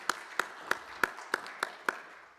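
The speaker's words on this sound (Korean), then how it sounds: "감사의 박수를 한번 해주시겠습니다" A church congregation gives slow, steady clapping in unison, about seven evenly spaced claps, clear and moderately loud in a reverberant hall.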